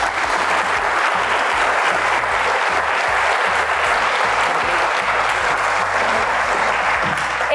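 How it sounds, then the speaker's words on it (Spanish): A studio audience claps loudly and steadily for guests being introduced on a Mexican panel program, a dense, sustained round of applause with a faint murmur of the crowd beneath it. "Un aplauso, por favor."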